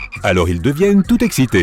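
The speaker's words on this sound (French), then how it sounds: "tu peux entendre les crapauds chanter" Toads croak before heavy rain in a series of short, rhythmic, pulsing calls, loud and close, with a voice speaking over them.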